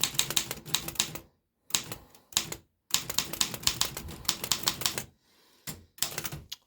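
A 1923 Underwood typewriter being typed on, with rapid bursts of loud, close key strikes broken by brief pauses and a couple of short gaps.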